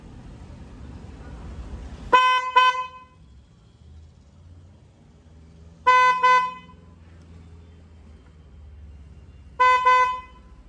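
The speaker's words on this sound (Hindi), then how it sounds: "अब करते हैं इसके हॉर्न की ट्यूनिंग कैसे करते हैं।" A car horn being tested during tuning sounds in three short double bursts, loud and close, separated by pauses over a low engine idle.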